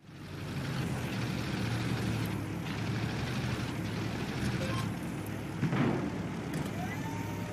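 A BMD-4 airborne infantry assault vehicle driving in Armored Warfare, with a steady low engine rumble throughout and a brief louder thump partway through.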